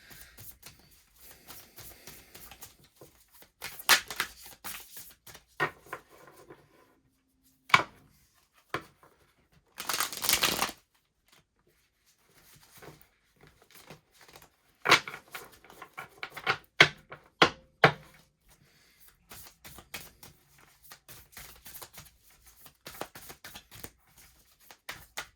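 Cards are shuffled and riffled in bursts of crisp flicking and tapping, with quiet gaps between them and one longer riffle in the middle.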